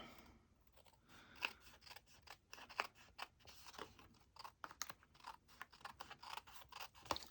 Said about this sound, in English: So snip, snip, snip.